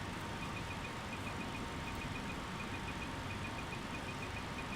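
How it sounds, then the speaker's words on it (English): An overspeed warning in a flight simulator sounds as a steady, evenly spaced electronic beep that repeats throughout, fairly faint beneath a constant broadband rush of airflow and engine noise. "Is that your plane making that beeping noise?"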